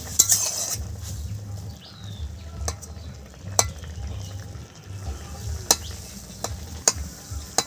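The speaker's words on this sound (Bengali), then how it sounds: "ঢাকনাটা তুলে নেব, ডুমুর দেখি কিরকম সিদ্ধ হয়েছে" A lid comes off a pot of boiling figs with sharp metallic clinks and taps of cookware, set over a low bubbling simmer in a home kitchen.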